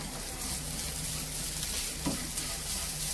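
Grated coconut and beans sautéed in a pan give a steady soft sizzle with faint stirring, continuous and close throughout.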